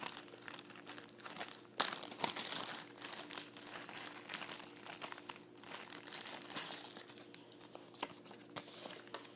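Sticker sheets are handled and peeled, a steady close crinkling and rustling of thin paper with small crisp snaps, soft and continuous throughout.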